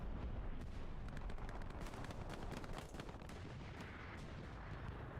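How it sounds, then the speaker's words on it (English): A distant explosion from a destroyed recon tank in an online multiplayer war game, heavy rumbling blasts and scattered gunfire rolling on through the whole stretch, fairly far off, with no talking. "You have an explosion off in the distance."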